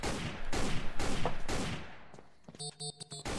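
Gunshots blast out a window in the Sneak Thief video game, a quick run of loud, sharp shots in steady succession, followed by a brief lull and then a few short, tonal clanking hits.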